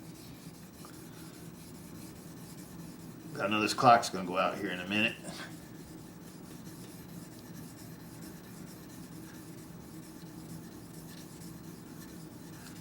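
A short burst of rough scraping and rubbing close by as sandpaper is rubbed by hand on a Demko AD20S knife blade, then quiet with occasional speech.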